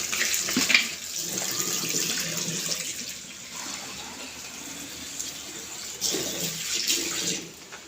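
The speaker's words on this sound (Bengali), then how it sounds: "মশলাটা যেমন কষানো শেষ, পানি দিয়ে দিচ্ছি" Water is poured into a pan of frying spice mix, producing a continuous rushing, bubbling hiss that swells near the start and again toward the end before trailing off, close and fairly loud, with no talking.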